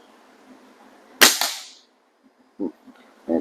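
A .25 calibre Theoben Eliminator air rifle fires a single sharp, close crack with a quick trailing ring, followed by a couple of faint clicks or thuds.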